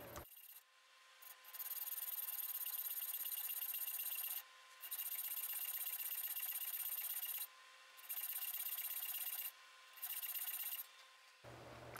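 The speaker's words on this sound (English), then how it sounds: "I'm just going to use a hacksaw to rough out the spaces." A hacksaw roughs out spaces in a metal box, steady rasping strokes in several long bursts separated by brief pauses, close and fairly quiet, with no talk.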